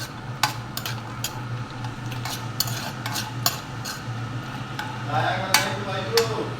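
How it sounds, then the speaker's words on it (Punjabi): Cashews being roasted in a pan and stirred, with scraping clicks of a spoon against the metal coming at irregular intervals over a faint steady hum. "ਇਹਦੇ ਵਿੱਚ ਪਾਵਾਂਗੇ ਕਾਜੂ ਤੇ ਇਹਨਾਂ ਨੂੰ ਚੰਗੀ ਤਰ੍ਹਾਂ ਰੋਸਟ ਕਰ ਲਾਂਗੇ"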